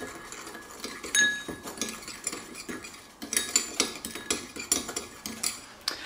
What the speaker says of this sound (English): Now let's mix up the dry spices.